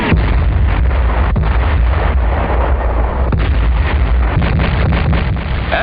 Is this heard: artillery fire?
yes